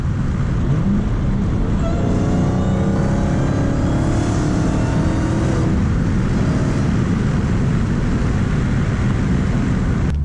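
Dodge Challenger Hellcat with a manual transmission and muffler delete doing donuts, a loud, steady engine roar with rising harmonic whine and tire noise held close for the full ten seconds.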